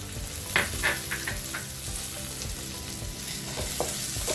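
Green chilies and curry leaves sizzle in salted hot oil in a frying pan for a snake gourd stir-fry, giving a steady close crackle with a few sharper pops and spits throughout.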